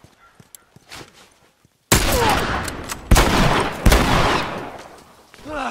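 Gunfire in the video game The Last of Us Remastered, including shotgun shots. A sudden loud blast is followed by sustained, dense firing with several strong reports, with scattered quieter sounds before it.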